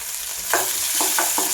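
Curry leaves, sliced onion and chopped green chilies hit hot oil in a pan for a Kerala-style tomato curry, a steady close sizzle with a few short clinks of stirring.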